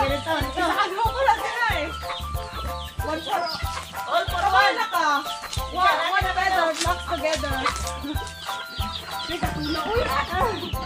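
Native chickens cluck and squawk repeatedly while being caught on a Philippine farm, loud and busy throughout, mixed with people talking nearby.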